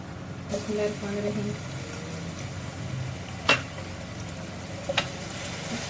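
Garlic drops into hot oil left from frying pakoras for a Punjabi kadhi tempering and starts a soft, steady sizzle. Someone speaks over it, and a few sharp clicks from the pan cut through.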